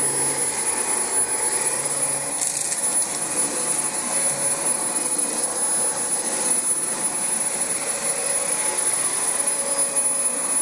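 A Dyson DC25 upright vacuum cleaner runs steadily in a dirty home, producing a constant, loud, high-pitched motor whine and airflow roar that stays even from start to finish with no talking.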